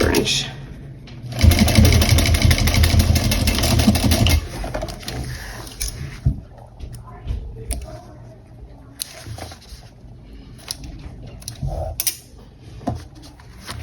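A sewing machine stitches a small bowler bag in a fast, loud mechanical chatter for a few seconds, then falls to scattered clicks and handling noises while a person talks.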